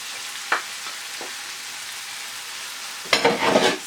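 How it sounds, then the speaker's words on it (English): Corned beef hitting a hot pot of cooking onions, tomatoes and garlic, a faint sizzle with a couple of soft clinks, then a loud burst of frying and stirring near the end. "So I'm going to add the corned beef to the pot."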